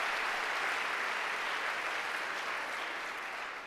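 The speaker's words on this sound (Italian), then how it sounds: "Intanto io chiederei un applauso per Paolo Saluzzi per questa mattinata." Audience applause at an annual meeting, a steady dense wash of many hands clapping that holds strong throughout and eases slightly at the very end.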